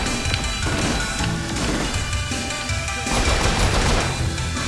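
Loud, sustained gunfire in Saints Row IV: rapid bursts of shots mixed with crashing impacts, continuous and close, with no pauses.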